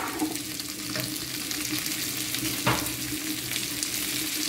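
Carrots and zucchini stir-frying in a pan, a dense continuous sizzle with a hum underneath and one brief scrape of stirring near the middle, close and moderately loud, no talking.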